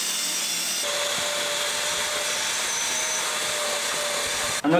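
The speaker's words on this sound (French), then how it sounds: "on va passer la brosse avec la perceuse sur les sièges" A cordless drill spinning a brush attachment scrubs car seats during interior detailing, a loud steady whir with faint hum and scratchy brushing, cutting off briefly just before the end.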